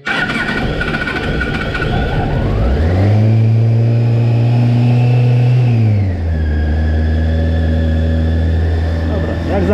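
A Yamaha FZS 1000 Fazer motorcycle engine runs loud and close while warming up, with a rising rev partway through that holds steady, then drops back to a lower steady idle.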